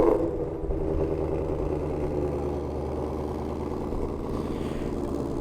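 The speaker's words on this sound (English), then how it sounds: "So the car starts up with the exhaust in the sport mode." A 2020 Shelby GT500 engine, started by remote start with the exhaust in sport mode, runs with a deep, steady rumble and low burbling exhaust, idling evenly at close range with no talking.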